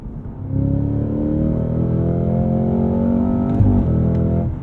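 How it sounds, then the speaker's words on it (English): BMW M5 Competition accelerating hard, its engine note rising steadily, a brief clunk as a gear engages with the throttle held wide open, the pull continuing without a break; loud and close, no talking. "a no-lift shift, meaning I get to keep my right foot pinned on the throttle as I engage the clutch, as I shift the gear"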